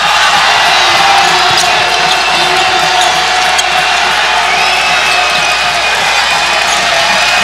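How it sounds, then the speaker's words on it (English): A basketball arena crowd of over 7,000 roars steadily, a dense continuous cheer with squeaks and bounces underneath, and a commentator talks over it. "Crowd starting to get into it."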